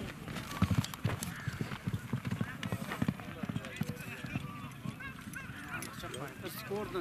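Horse hooves clip-clopping close by, with irregular rapid thuds mixed under steady outdoor talk and background noise, at a horse sale where a four-year-old horse is being shown.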